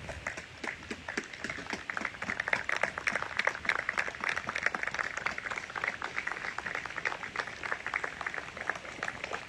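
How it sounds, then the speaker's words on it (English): An audience at a memorial anniversary ceremony for the Thiokol explosion claps steadily with scattered individual hand claps forming moderate, sustained applause heard from a distance. "would you please stand and give her a hand clap of praise"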